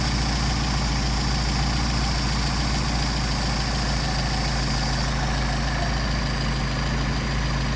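Steady, close idle of a Mercedes 190SL engine with Solex carburetor running at about 700 RPM, an even low rumble throughout with no voices.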